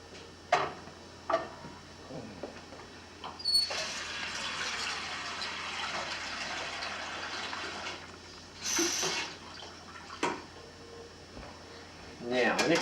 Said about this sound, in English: So we'll first fill these 2 up with some water.